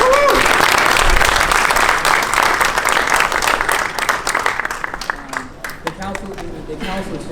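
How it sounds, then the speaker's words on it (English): Loud, sustained applause from an audience at a ribbon-cutting for a residential building, honoring the architects; dense clapping fills the stretch, then thins toward the end as a voice begins speaking over it. "So give them a round of applause."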